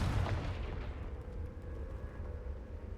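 A fiery Confringo spell explodes in Hogwarts Legacy, a loud booming blast at the start that rolls off into a rumbling, crackling decay.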